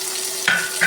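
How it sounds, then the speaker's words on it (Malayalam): Onion, curry leaves, ginger, green chili and garlic sauté in a pan for a Kerala-style fish curry, giving a steady close sizzle with two brief stirring scrapes. "നന്നായി വഴറ്റിയെടുക്കാം."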